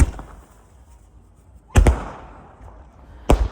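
Firecrackers go off at night during a family haldi celebration, with two loud sharp bangs in quick succession, a ringing tail, then another bang, over a quiet background.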